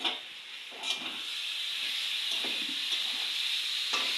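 Vegetables, prawns and chickpeas fry in a pan with a steady, close hiss and sizzle, broken by a few soft stirring scrapes.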